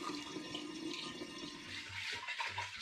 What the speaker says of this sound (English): I'm going to pour both of my bottles now into this demijohn